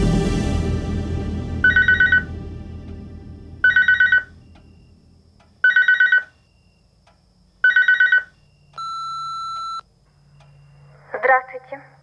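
A telephone rings four times in even bursts with no one answering, followed by a steady answering-machine beep and a short burst of voice.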